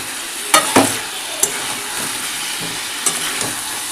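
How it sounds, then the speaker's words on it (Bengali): A spoon stirs chicken and fried potatoes around a sizzling pan, with several sharp scraping knocks spaced over a constant close frying hiss; no talking. "চলো এটাকে একটু নেড়ে দিই।"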